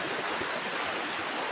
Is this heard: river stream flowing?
yes